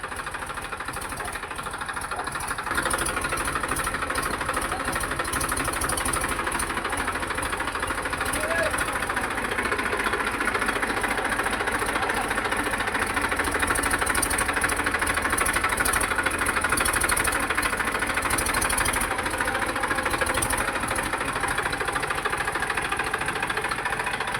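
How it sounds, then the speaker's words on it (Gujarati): A tractor engine chugs steadily with a rough, knocking rhythm throughout as the tractor turns around on a cramped farm, loud and close, with some faint voices mixed in. "ફાઇનલી હવે ટ્રેક્ટર વળતું થઈ ગયું છે"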